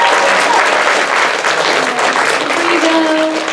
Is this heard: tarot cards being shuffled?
no